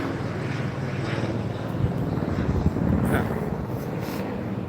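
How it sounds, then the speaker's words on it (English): Helicopter rotors drone steadily overhead somewhere in the Los Angeles area, a continuous loud rumble that swells slightly midway, with wind buffeting the microphone. "Helicopter."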